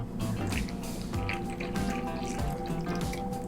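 Oat milk pours into a bowl for vegan banana pancakes, a continuous close liquid splashing and dripping that runs under the whole stretch with no talking.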